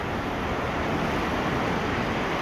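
Fast-moving river water rushes in a steady, broadband roar, close and continuous with no pauses, with some wind buffeting the microphone.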